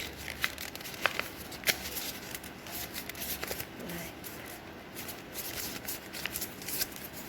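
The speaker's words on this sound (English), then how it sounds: "Fold it towards back side." A paper sheet is folded and creased for a kitty bracelet craft, with close, crisp crinkling and rustling and several sharp paper snaps scattered through a steady papery shuffle.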